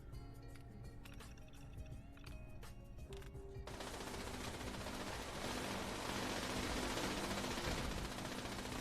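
Automated turrets fire in Fallout 76, giving a faint, rapid burst of repeated gunshots, then a dense wash of continuous noise that grows slightly louder toward the end.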